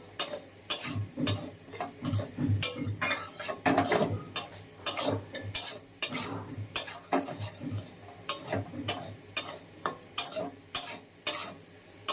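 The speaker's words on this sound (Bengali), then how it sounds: "প্রথমে ডালটা ভেজে নেব।" Dal frying in a kadai before khichdi, a metal spoon scraping and clinking against the pan in steady repeated strokes, close and clear, with a faint sizzle underneath.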